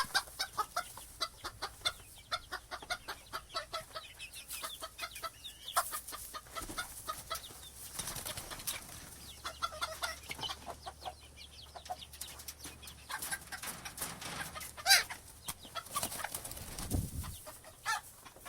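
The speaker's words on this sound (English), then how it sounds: "chicken," Chickens clucking steadily in a farm setting, a busy, continuous run of short clucks and murmurs at moderate distance with no talking.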